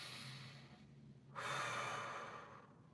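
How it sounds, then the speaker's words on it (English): Slow deep breathing while lying on a foam roller, a long exhale followed by a louder, fuller breath, close and quiet. "8 to 10 breaths, and I'll do them now."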